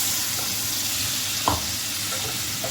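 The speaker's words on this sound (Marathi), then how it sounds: "जे वाटण केलेलं आहे त्याचं पाणी आपण त्याच्यात टाकायचं" Ground spice-paste water poured into hot masala for a dhaba-style mushroom masala, a loud continuous sizzle with one brief splash-like burst partway through, no speech.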